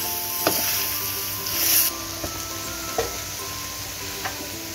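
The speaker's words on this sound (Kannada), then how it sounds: "ಸ್ವಲ್ಪ ಒಂದೆರಡು ನಿಮಿಷ ಶುಂಠಿ ಬೆಳ್ಳುಳ್ಳಿ ವಾಸನೆ ಹೋಗೋವರೆಗೂ ಹುರಿಬೇಕು" Ginger and garlic sizzle in a hot pan while frying for a spicy chicken pepper dry, a steady close hiss broken by a few sharp clicks and stirring scrapes, with no talking.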